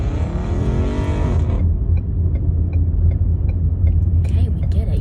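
A nearby Cadillac's engine revs hard with a rising, rumbling roar for about a second and a half, then settles into a steady low idle rumble heard from inside another car.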